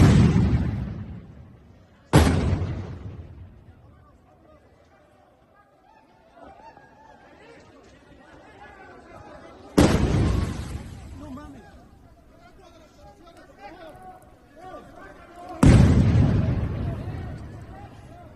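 Protesting teacher-training students in Mexico set off firecrackers: four sharp, loud bangs at uneven intervals, each trailing into a decaying echo, with crowd chatter in between.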